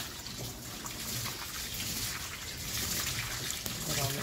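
Fresh rinse water runs and splashes steadily over an Afghan hound during a grooming bath, a close, continuous watery wash with a few brief spikes.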